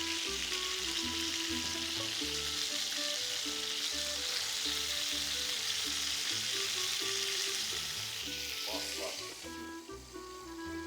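Rabbit meat fries under a lid in a pan, giving a steady, loud sizzle with crackling throughout, easing slightly toward the end as a few clinks and stirring sounds come through.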